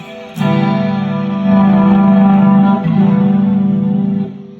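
An electric guitar runs through distortion, chorus and flanger pedals in an amplifier effects loop, a single sustained chord ringing for about four seconds with swirling modulation, loud and alone.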